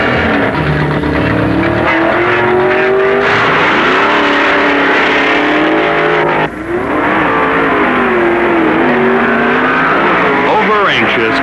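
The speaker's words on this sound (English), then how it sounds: "full-time pro, Don Grother of Oklahoma City, pits his automatic Hemi Barracuda against Southern Californian Wiley Cossey" 1969 drag racing cars, including an automatic Hemi Barracuda, roar loudly with rising, revving engine pitch and passes under constant announcer-style talk.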